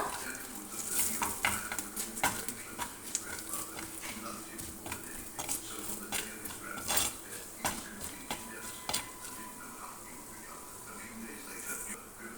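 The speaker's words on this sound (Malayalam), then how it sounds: "മല്ലിപ്പൊടി മഞ്ഞൾപ്പൊടി മുളക് പൊടി ചേർത്തിട്ട് ഇതിൻ്റെ ഒരു പച്ചമണം മാറുന്നത് വരെ ഒന്ന് ഫ്രൈ ചെയ്ത് കൊടുക്കുക" Coriander, turmeric and chili powder fry in a pan for a Kerala ginger curry while a utensil stirs, giving steady soft sizzling with frequent sharp metallic scrapes and clinks close by, no talk.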